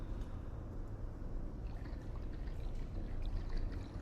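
Old green liquid fizzes and bubbles in the game Half-Life: Alyx, a faint, steady crackle of tiny pops and trickling that carries on alone, without talk.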